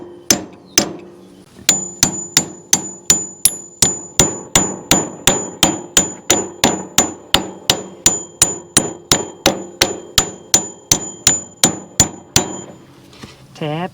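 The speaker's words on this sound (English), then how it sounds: "Hammer that down in there just to, it's actually already slipping through" A hammer taps a spindle out of a John Deere 820 tractor with about thirty sharp metallic blows in an even, rapid rhythm, close and loud with a faint ringing after each strike.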